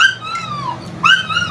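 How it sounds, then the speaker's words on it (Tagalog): Dogs that have caught the smell of food whimper in close, high, sliding whines, two drawn-out cries separated by a short pause, loud and with no talk over them. "Nakaamoy ng pagkain yung mga aso."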